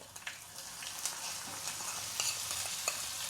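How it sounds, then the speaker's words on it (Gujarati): Chopped green onion sautéing in a pan of hot oil with curry leaves, asafoetida and carom seeds while making handvo: a steady close sizzle with occasional light stirring scrapes. "એમાં આપણે આ ડુંગળી છે ને એ સાતળવાની છે"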